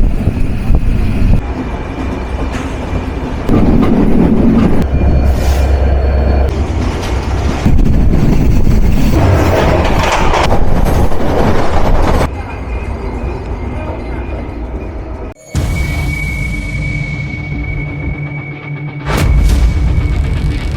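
Steel wheels of the Nilsagar Express clatter loudly on the rails in a continuous, rumbling roll, briefly cut off near the end before the running noise resumes.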